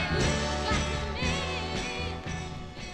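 A 1968 soul record plays quietly, with a steady beat, sustained vocal lines and backing instruments, and no talk over the music.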